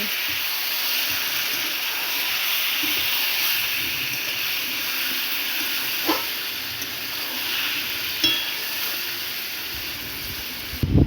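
Fangas fish sizzling in hot oil in a pan with onion, a steady loud hiss throughout and a few soft clinks and scrapes from stirring near the end.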